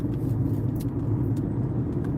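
Car driving eastbound across the 145th Street Bridge toward the Bronx at night, a steady close low engine and road rumble with faint higher hiss, no talk.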